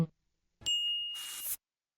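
A short electronic notification bell dings once, a bright sustained chime that fades into a soft shimmering tail, standing alone after a brief bit of speech at the start.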